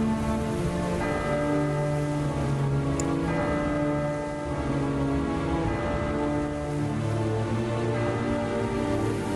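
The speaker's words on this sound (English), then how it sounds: "Oh, the bells are ringing." Church bells ring in the video game Syberia Remastered, with layered sustained tones tolling steadily through the scene over a constant rain-like wash and wind ambience.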